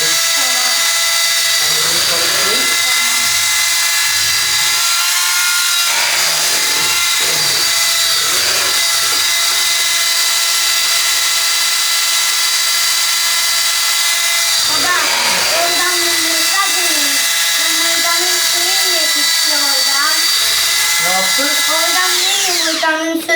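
An electric mixer whirs continuously while beating cake batter in a home kitchen, loud and close throughout, with children and an adult talking over it.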